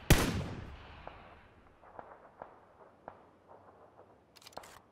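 Gunfire in PlayerUnknown's Battlegrounds: one loud, close shot opens, followed by a string of fainter, distant cracks spaced irregularly through the rest.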